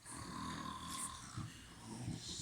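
Children imitate snoring in a primary school Christmas play, giving soft, rough snorting breaths in uneven bursts from a group, faint and somewhat distant.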